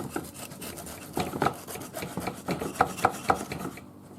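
A serrated knife saws through a freshly baked loaf of Bob's Red Mill low carb bread from a Zojirushi bread maker, giving repeated rasping strokes with a few sharper crusty crackles, close and clear with no talking.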